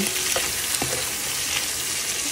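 Shrimp frying in a pan make a continuous bright sizzle, close up, with a few soft stirring knocks.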